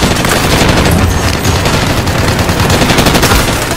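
Loud, continuous gunfire in a Call of Duty match, rapid automatic bursts overlapping without a break, dense and close throughout.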